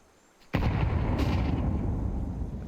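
A grenade explodes in Counter-Strike 2 during a professional esports match, one sudden loud boom followed by a dense, rumbling roar that holds for a couple of seconds.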